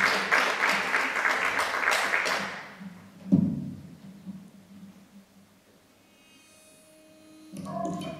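Theatre audience at the Teatro Piermarini in Matelica applauds loudly for about three seconds, then the clapping fades out, followed by a single thump and a low hum.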